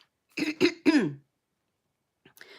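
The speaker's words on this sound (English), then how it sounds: "I'll have to keep clearing my throat" Someone clears their throat three times in quick succession, then a brief faint rasp follows after a pause.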